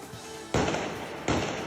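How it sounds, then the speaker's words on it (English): Two sharp gunshots ring out on a city street during night unrest, each a loud close crack with a long echoing tail, about a second apart. "sounds of gunshots can be heard echoing on the streets of Churachandpur last night"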